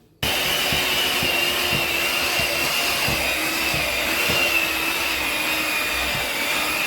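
An electric mixer runs at high speed through vanilla cake batter after flour and milk are added, a loud steady whir that starts abruptly and holds without a break.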